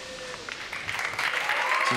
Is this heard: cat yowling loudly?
no